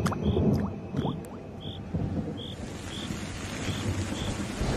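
Steady rain with a distant rumble of thunder, and a repeated high chirping call sounding at regular intervals over the downpour.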